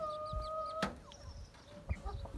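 Laying hens cluck in short bursts in a village garden, with a sharp tonal whistle early on and a loud knock midway, set against faint outdoor background noise.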